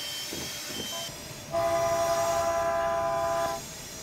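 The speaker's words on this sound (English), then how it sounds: "Sounds like a car horn." A steady two-tone horn from a Caltrain MP36 locomotive in Train Simulator blasts for about two seconds over a low engine rumble, then cuts off.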